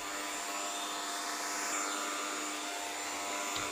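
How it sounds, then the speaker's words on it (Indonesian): An electric mixer whirs steadily and loudly throughout as it blends batter for Indonesian bolu tape, a cassava cake. "Kita akan blend jadi satu dengan mixer yang tadi ya"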